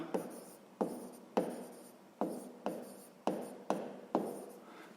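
Pen strokes writing out a grade 6 math problem as a table, a series of eight short scratchy strokes in a steady rhythm, close and quiet with no talking.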